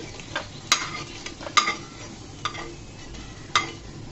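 Boiled potatoes being scooped out of a pan onto a plate, heard as a few sharp utensil scrapes and clinks against cookware over a faint background sizzle, close and without speech.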